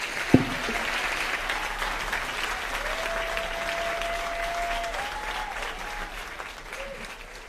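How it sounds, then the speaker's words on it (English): An audience at a comedy fundraiser show gives sustained applause, a steady, moderately loud wash of clapping with a thin held tone running faintly underneath. "Keep that applause going."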